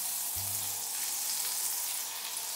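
Butter and oil melt and sizzle in a pan for yogurt soup, a steady close hiss of frying that carries on evenly, with a short low thump near the start.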